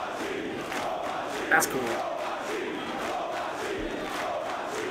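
Wrestling crowd noise from the Samoa Joe vs Kenta Kobashi match: a steady, loud roar of cheering and chanting throughout, with a brief sharper burst near the middle and a voice speaking briefly.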